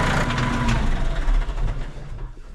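Massey Ferguson 5460 tractor diesel engine running close by, a steady loud low rumble that eases slightly toward the end, with no talk.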